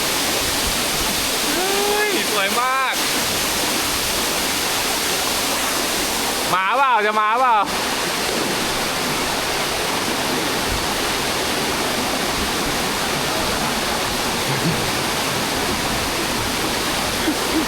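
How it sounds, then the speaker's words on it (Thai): Sarika Waterfall in Nakhon Nayok, Thailand, roars as a constant loud rush of water, with a person briefly speaking over it a couple of times. "ตอนนี้มานั่งอยู่ข้างหน้าน้ำตก สาริกานะครับ"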